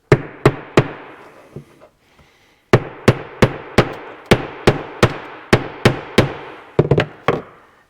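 Old PTO seal on an International Harvester 1086 tractor being driven out with a screwdriver struck by a hammer: about sixteen sharp metallic strikes, close and loud, in two bursts separated by a short pause.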